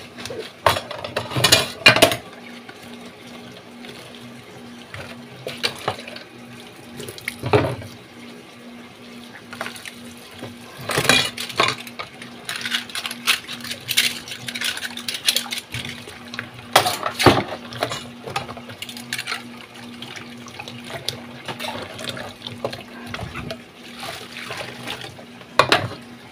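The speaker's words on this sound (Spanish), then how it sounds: "lavas esos trastes." Dishes are washed in a sink under a running tap with degreasing cream soap, giving a steady trickle of water broken by repeated clinks and clatters of plates and cutlery, near and fairly loud.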